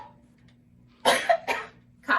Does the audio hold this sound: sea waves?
no